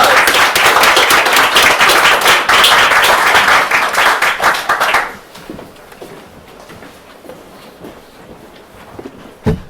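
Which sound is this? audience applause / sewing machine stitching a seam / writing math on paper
audience applause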